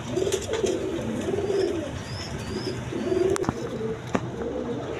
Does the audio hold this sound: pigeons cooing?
yes